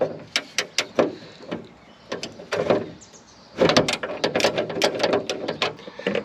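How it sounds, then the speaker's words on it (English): A door handle is worked loose and pulled off a Toyota FJ40 door, giving a series of sharp metallic clicks and clunks, then a denser run of rattling knocks near the end. "we can pull that door handle off."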